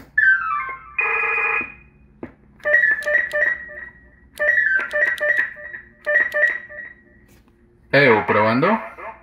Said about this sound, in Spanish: Ahí está, con eco.